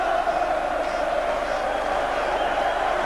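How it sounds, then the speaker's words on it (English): Liverpool fans in a large stadium crowd at Villa Park during a 1988 Cup match, a sustained roar of cheering and applause, distant and continuous, with a commentator's voice over it. "from the rapturous applause of the Liverpool fans"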